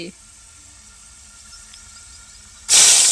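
Onions dropped into hot oil for a village-style potato curry, a sudden loud sizzling hiss bursting in at the end after a quiet stretch and holding strong and close.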